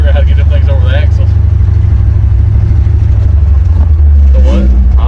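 A Ford F100 truck's engine and mufflers give a steady low rumble while driving, loud and continuous throughout, with voices talking briefly over it.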